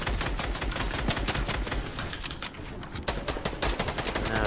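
Dense automatic gunfire from a battle-royale arena video game, rapid bursts rattling almost continuously with a brief lull midway, loud and close throughout.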